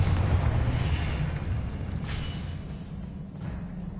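A Confringo spell blast in Hogwarts Legacy lands as a deep, rumbling explosion that swells at once and slowly fades, a heavy low boom with a faint crackle over it and no voices.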